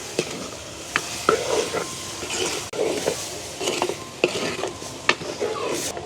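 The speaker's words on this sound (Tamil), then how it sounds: "அப்படியே நல்ல வடிவாக பிரட்டுவோம்" Egg devil with tomatoes stirred in a frying pan, a spoon scraping and clinking against the pan at an irregular rhythm over a steady sizzle, close and fairly loud, no talk.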